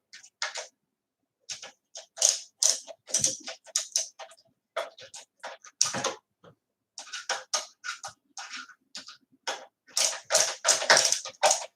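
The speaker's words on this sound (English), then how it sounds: "The ratcheting screwdriver seems to work pretty well." A Hyper Tough ratcheting screwdriver drives a screw into a wooden shelf, giving rapid, close clicking bursts in short uneven runs separated by brief pauses.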